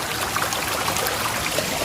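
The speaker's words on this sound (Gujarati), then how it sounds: "તો મિત્રો વાળામાં પાણી આવે છે." Water runs steadily along an irrigation channel, a continuous broadband gurgling and trickling rush that stays close and even throughout, with no voices.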